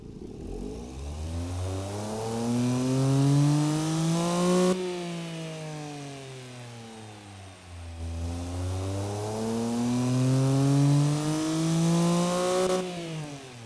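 A tiny car engine with a big exhaust in the video game BeamNG.drive revs up and back down twice, its buzzy pitch rising and falling smoothly, steady and unaccompanied by voices.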